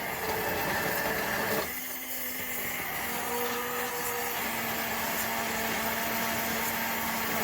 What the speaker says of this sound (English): So you're just going to stick your blender in and turn it on.